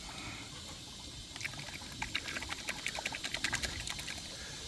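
Water trickles and patters into a chicken watering system cup as it autofills, a soft run of small splashes and drips close by that grows busier partway through, with no talking.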